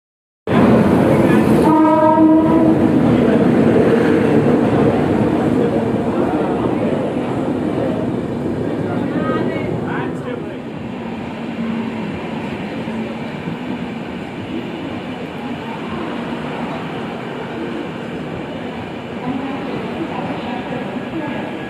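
Interior of the Saurashtra Mail passenger train from Mumbai Central to Okha, a 3AC economy coach, with a loud, steady rumble of the train running throughout and a horn-like tone near the start under faint talk.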